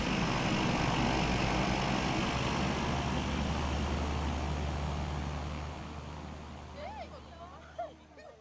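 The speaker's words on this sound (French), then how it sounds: "Ce que tu aimes le plus de cet avion, c'est son bruit de moteur à turbine" Turbine engine of a Caravan aircraft roaring loud and steady, then gradually fading away, with voices and bird-like calls emerging near the end.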